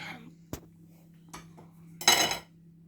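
Spoon clinking against a bowl while a thick potato mixture with garlic and chilies is stirred, giving a few sharp taps and then a louder scraping burst over a steady low background hum.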